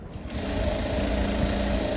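A sewing machine runs steadily, stitching the side seam of elastic-back kids' shorts, with a continuous close mechanical whir and no pauses.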